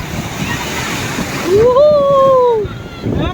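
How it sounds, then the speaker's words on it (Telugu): Sea waves wash and break on Rushikonda beach in Vizag, a continuous surf roar with swimmers nearby, while a drawn-out voice or cry rises above the water noise midway. "కొట్టేస్తుంది అలలు."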